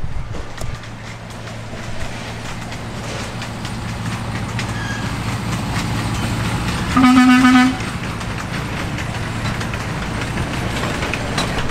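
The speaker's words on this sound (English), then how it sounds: "here comes a train going by" A train rolls by in the background at Griffith Park, Los Angeles, with a steady rumble, and a short horn toot sounds partway through; no one speaks.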